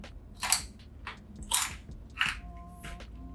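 Homemade fried corn tortilla chips crunch between teeth in three or four sharp, close bites with quieter chewing crackles between them, and no talking.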